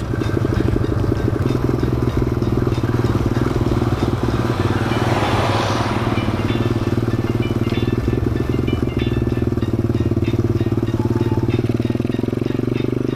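A Thumpstar 140cc pit bike engine runs steadily up close, a loud, rough, rattling idle with an uneven clattering knock from the front end, continuous and unbroken throughout.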